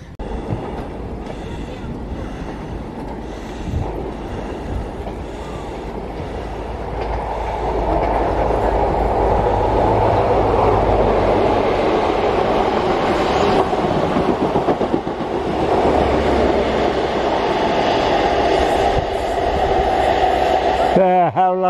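An HST high speed train passes on the line near the Forth Bridge, its steady rumbling roar and rhythmic rail clatter swelling and holding loud, while people talk over it.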